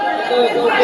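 A dense, loud crowd chatters steadily at a covered basketball court during a game, many voices blending into a continuous close-up murmur with no single voice standing out.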